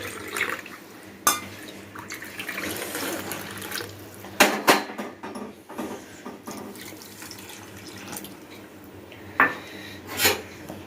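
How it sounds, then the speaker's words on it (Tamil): Water poured into a cup while preparing ragi dosa batter in a home kitchen, a soft trickling splash under the clatter of dishes and a few sharp clinks of utensils. "இப்போ இதுலேயே இதே கப்புலேயே ஒரு கப்பு தண்ணி ஊற்றிக்கலாம்."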